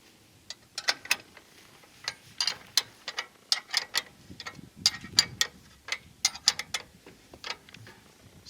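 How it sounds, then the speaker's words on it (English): A wrench ratchets while tightening a bolt on a utility trailer jack, a close series of sharp metallic clicks in uneven bursts with short pauses between strokes. "I gotta tighten this bolt here."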